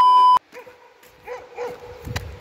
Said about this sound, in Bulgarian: Я гледаш и кучето ти писки.